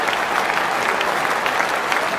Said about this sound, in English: he's getting the applause